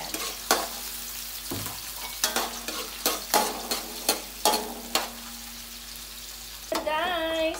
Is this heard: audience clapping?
no